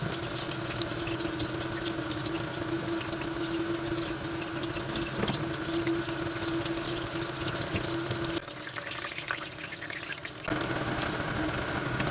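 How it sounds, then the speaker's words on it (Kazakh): Eggplant slices fry on both sides in a heated pan over medium heat, giving a steady, close, unbroken sizzle that runs at the same level throughout with no talking. "Қыздырылған табада орташа отта екі жағын қызартып қуырамыз."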